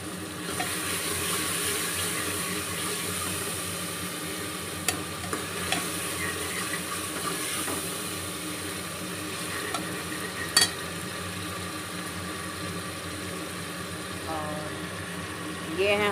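Masala with ginger-garlic paste, tomato and green chillies stirred and frying in a pan for chole curry, a steady soft sizzle running throughout with occasional utensil clinks.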